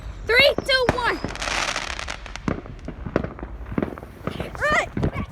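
Fourth of July fireworks go off after a spoken countdown: a loud whooshing burst follows the voices, then scattered pops and crackles, with people talking excitedly nearby.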